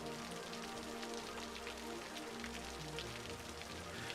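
Rain in the city-building game Cities: Skylines: a dense, even patter of drops, steady and moderately loud throughout, with no voices.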